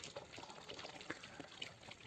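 Water runs along a channel in an apple orchard at Chirbatiya, Rudraprayag, Uttarakhand, fed by a motor supplying a 1000-litre plastic tank; a faint, continuous gurgling flow with small splashes, heard from close by.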